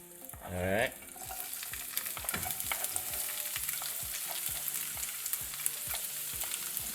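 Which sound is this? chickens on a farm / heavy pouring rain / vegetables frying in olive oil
vegetables frying in olive oil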